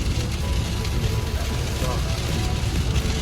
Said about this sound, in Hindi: आवाज से आपको पता चल रहा होगा, इतनी तेज बारिश।